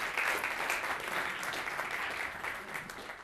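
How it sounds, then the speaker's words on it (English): An audience at a Rotary performing arts competition gives a round of applause, a continuous, fairly soft wash of many hands clapping that holds steady and tapers slightly toward the end. "Go ahead and give yourselves a round of applause."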